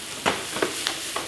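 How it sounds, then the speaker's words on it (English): Chopped onion sautéing in olive oil in a pan on an induction cooktop, giving short bursts of sizzle as it is stirred, four soft crackling pulses over steady low frying hiss. "I'm going to start with the onion first, okay? So we're going to saute this"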